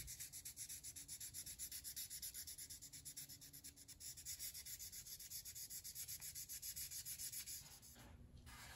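A tobacco pipe stem is sanded by hand, a close, quiet, rhythmic scrubbing of rapid back-and-forth strokes that keeps an even pace, then stops briefly near the end.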